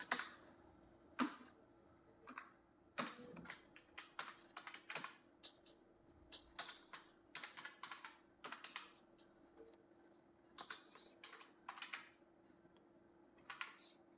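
Quiet, close keystrokes on a computer keyboard as text is entered, coming in scattered clusters and single taps with gaps between them over a faint steady hum.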